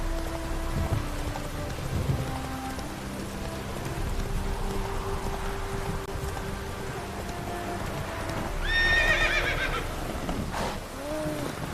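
A horse in The Witcher 3 gives a loud, high whinny near the end, set over steady rain and hoofbeats in a wet outdoor scene.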